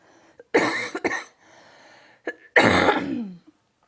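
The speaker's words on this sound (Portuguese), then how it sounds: "Desculpem as tosse." A few harsh coughs come in two clusters, the second a longer throaty hack, close and fairly loud with quiet gaps between.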